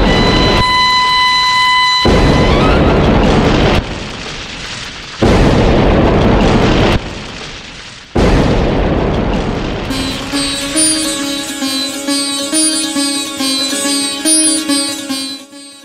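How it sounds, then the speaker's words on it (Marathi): Cannons fire at a fort in a film scene: a string of heavy booms, four or five loud blasts in quick succession, followed by a swell of dramatic orchestral music. "तोफाना बत्ती द्या"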